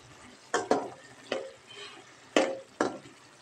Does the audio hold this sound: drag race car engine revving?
no